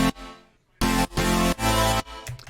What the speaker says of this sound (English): And when you add the crunchy bass,